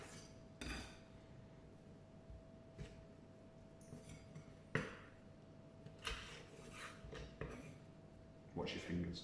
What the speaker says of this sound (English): And then I'm going to chop these in half.